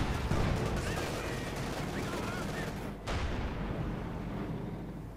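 Dense gunfire and artillery from a Company of Heroes 2 battle, with a Stug assault gun and Panzer IV engaging, forming a constant crackling, rumbling wall of combat noise that dips briefly near the middle before continuing.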